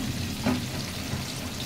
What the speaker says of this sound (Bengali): দেখুন পেঁয়াজগুলো একটু ভাজা হয়ে গেছে